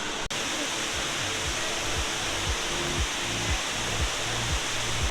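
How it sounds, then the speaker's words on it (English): Indoor waterfall in the Cloud Forest dome at Gardens by the Bay, Singapore, a constant broad hiss of falling water with a faint low rhythmic pulsing underneath and one sharp click near the start. "this is the waterfall view as well, so we'll show you that while we're here"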